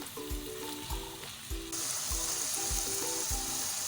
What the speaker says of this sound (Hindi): तो देखें प्याज को हमने कुछ सेकंड फ्राई कर लिया है।